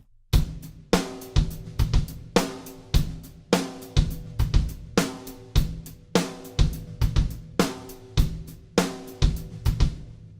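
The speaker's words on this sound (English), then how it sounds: "I'm just going to play the beat with straight eighth notes on the hi-hat" Drum kit playing the groove in the drummer's style, with straight eighth-note hi-hat. A steady, loud, close beat of kick and snare hits over ticking hi-hat runs for about ten seconds, with no talking.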